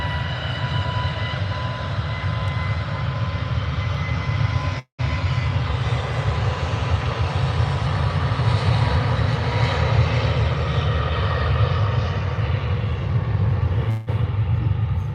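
A plane lands at Birmingham airport on a misty day, its engine giving a long, loud, steady roar with a low rumble and tonal whine, briefly cut out twice.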